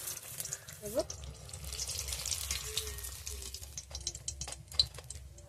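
Apple pitha frying in hot oil over a raised flame, a continuous watery bubbling hiss with faint clinks and a brief voice-like tone near the start.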